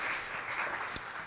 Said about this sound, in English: Another big round of applause for improving.